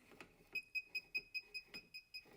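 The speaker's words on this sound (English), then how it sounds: "you hear the individual beeps" A string of short, bright electronic beeps, about ten in steady rhythm, with a few soft clicks and knocks between them in a quiet room.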